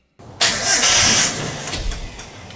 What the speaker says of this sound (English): The engine is turning over, but it's been sitting around for a while.